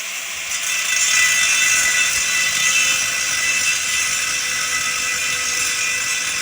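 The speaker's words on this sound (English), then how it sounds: "Now we cut along the lines with an angle grinder." An angle grinder with the wrong disc cuts slowly through a tough steel gas tank, giving a loud, steady, high-pitched grinding whine that continues without pause.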